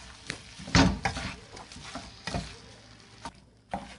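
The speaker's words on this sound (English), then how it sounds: "So now we're going to give this a good stir and then it'll be ready" Chilli parota being stirred in a pan, with a few soft scraping strokes and a light sizzle of frying, close and fairly quiet with short pauses between strokes.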